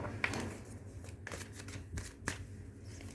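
Tarot cards riffled and shuffled by hand in a quiet room, giving a steady papery rustle with a few sharper flicks and snaps, close and soft, no talking.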